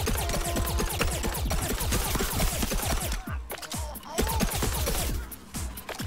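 Rapid, sustained bursts of cartoonish gunfire in Plants vs. Zombies: Garden Warfare 2, dense overlapping shots at close range with a brief lull midway before firing resumes.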